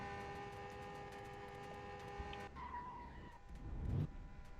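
A drift car in a racing video game revs steadily with a droning engine note, then slides into a brief tire skid and engine surge near the end, fairly quiet, with no talking.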